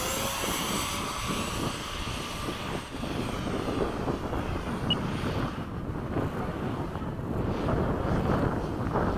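An F-16 jet flies in formation with a Twin Otter, heard as a continuous engine drone buffeted by heavy wind rush. It stays steady and loud throughout, with no talk.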